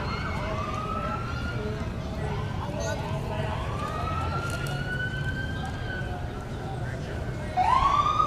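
Emergency vehicle sirens in a town parade wail, rising and falling at a distance over a constant rumble of crowd and traffic noise, with a louder siren whoop near the end.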